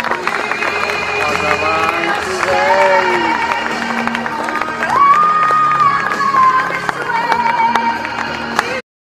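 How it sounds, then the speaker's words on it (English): An outdoor airshow crowd at Weston Park claps and cheers for a glider display pilot after his landing, steady applause mixed with whoops and a loudspeaker announcer talking over it. "Big round of applause, everyone, for the Cox Glider,"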